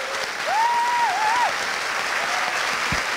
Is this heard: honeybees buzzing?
no